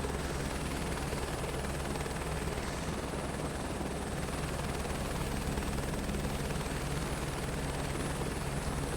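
A helicopter cruises over the Leh to Manali highway in Microsoft Flight Simulator 2024, its rotor thump and turbine whine forming a loud, steady, continuous drone with no talking.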